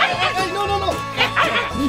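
A dog barks and yips in quick, close, excited bursts with whining tones between them, while a person talks over it.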